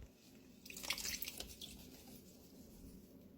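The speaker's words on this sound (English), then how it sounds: "And we put them in here to drip drain." Water drips and trickles from freshly rinsed lilac flowers left to drain, a brief cluster of faint, close splashy drips around the middle, then near-quiet.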